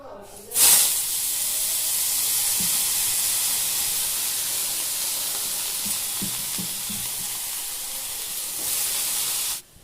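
Cabbage and potato frying in oil in a kadai give a loud, steady sizzle close by, with a sharp burst of hiss at the start and faint stirring clinks underneath.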